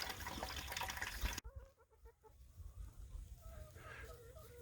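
Hungry chickens cluck and murmur softly at their water setup out in a pasture on a winter morning, scattered short calls at moderate distance after a loud burst of broadband noise.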